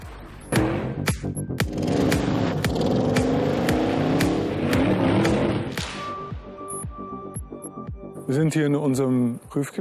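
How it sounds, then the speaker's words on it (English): An Audi quattro all-wheel-drive car climbs a steep test hill at a proving ground, with broadband engine and tyre noise building and holding, sharp transient clicks throughout, and talking near the end. "We are here on a climbing hill at our test site where we are recreating extreme situations in which we test the all-wheel drive"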